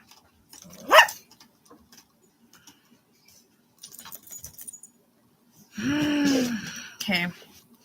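A dog named Poppy gives a sharp bark, then later a longer burst of whining barks indoors, close by, with quiet stretches between.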